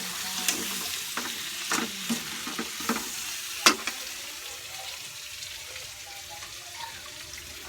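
Onion and garlic frying in a pan for chicken adobo, stirred with a spoon: crackling sizzle with irregular scrapes and clinks against the pan in the first half, then the sizzle settles down quieter, no voices.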